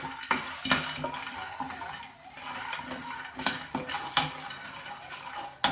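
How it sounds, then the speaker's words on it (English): Walnuts and cashew nuts dry-fry in an oil-free pan, tumbling and rattling as a utensil scrapes and clinks against the metal, giving an irregular clatter of stirring with little sizzle. "I'm just gonna fry my walnut, cashew nuts"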